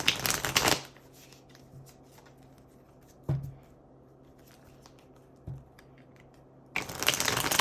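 A tarot card deck is shuffled in short riffling bursts at the start and at the end, close and crisp. Between the bursts the cards give a few soft taps and settle quietly.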